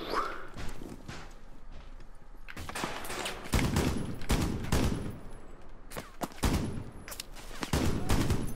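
Gunfire from a powerful gun in the Rainbow Six video game, rapid close bursts of shots with pauses between, mixed with footsteps and movement.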